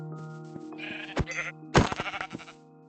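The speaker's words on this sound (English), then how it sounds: "But finally we found some actual sheep." Sheep in the video game Minecraft bleat in a few short, close, wavering calls, clear and alone with a steady tonal game backdrop and no talking.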